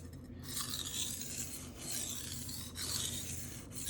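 Knife drawn in repeated strokes across a Shapton Rockstar 500 sharpening stone, a close, soft gritty rasping in steady back-and-forth rhythm, with brief pauses between passes.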